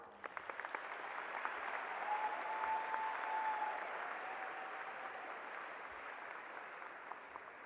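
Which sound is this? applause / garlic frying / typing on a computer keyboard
applause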